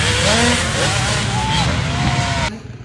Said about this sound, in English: John's just passed Dave on his mini bike